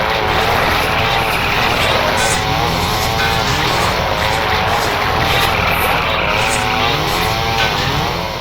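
Buzzing, droning engine whine of the chainsaw glove weapon in the video game Daikatana, a loud, continuous, slightly wavering motor noise that keeps repeating without a break.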